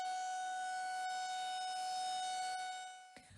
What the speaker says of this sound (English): when you hear the sirens, you need to take cover.